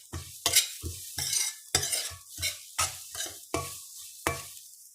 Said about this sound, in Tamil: இது கூடவே 1/2 கப் கிட்ட ரவை, அதையும் வறுத்துக்கலாம்